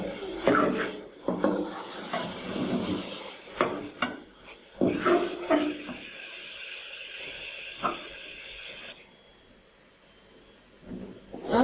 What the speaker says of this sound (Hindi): चमचा हिलाते रहे ताकि घी नीचे ना लगे